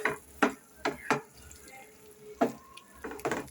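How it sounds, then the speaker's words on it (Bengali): A spatula stirs egg piyaja with fresh coriander leaves in a pan, making soft wet scrapes and dabs in an irregular rhythm of short strokes, close and fairly quiet. "ধনেপাতা দিয়ে আমি আবার একটু নাড়াচাড়া করে দিচ্ছি"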